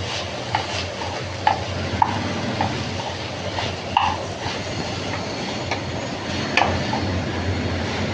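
Machinery from nearby building work makes a steady, rumbling drone with irregular knocks and clanks, heard indoors from a kitchen. The noise is moderately loud and constant, with no talk over it.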